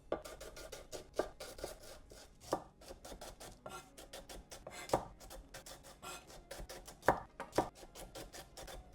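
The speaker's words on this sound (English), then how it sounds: "you need to half it and then slice it" A knife cuts rapidly through halved Brussels sprouts on a board, a fast run of crisp, close slicing taps with a few heavier chops mixed in, and no voices.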